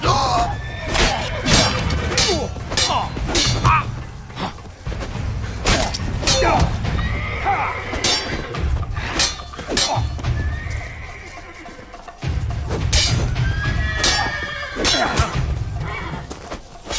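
Horses neigh and whinny several times over a busy backdrop of hoofbeats and clanking, with occasional voices in the mix, in the video game The Witcher 3: Wild Hunt.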